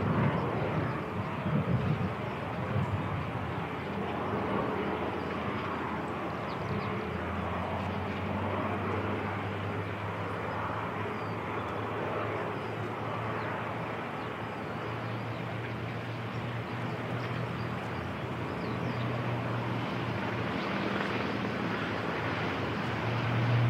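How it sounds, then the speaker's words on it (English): An ATR turboprop airliner arriving at Christchurch Airport gives a steady, distant propeller drone with a low tonal hum, heard under wind noise against the microphone for the whole stretch. "ATR comes in."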